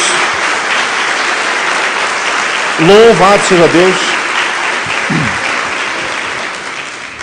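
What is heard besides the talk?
church congregation applauding Jesus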